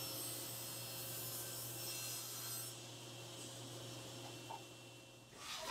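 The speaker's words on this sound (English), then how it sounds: "we'll set the fence to 3 inches and cut one strip from the smaller remaining workpiece" A table saw rips a 3-inch plywood strip from a workpiece, giving a steady, faint whirring drone that eases slightly midway and ends with a small rise as the cut finishes.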